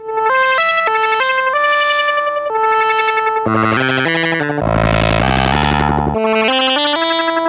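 A loud wavetable synthesizer tone steps through shifting timbres and pitches, an LFO sweeping the wavetable position, its harmonics morphing rhythmically, briefly dropping into a deep buzzing bass before rising again.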